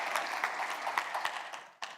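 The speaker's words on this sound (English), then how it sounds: "so applause, Omer" Audience applause at the close of a conference lecture, a steady wash of clapping from a seated crowd that tapers off near the end.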